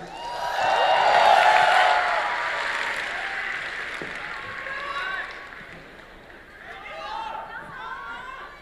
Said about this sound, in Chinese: 谢谢大伙的掌声鼓励